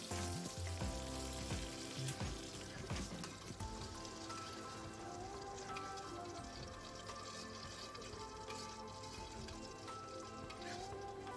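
Sambal with shrimp paste fries in a pan, giving a steady close sizzle and crackle with some wetter bubbling, alone without voices.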